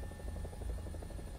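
A helicopter in the War Thunder game, flown in VR, holds a steady, loud rotor drone with a rapid rhythmic chop throughout, no voices over it.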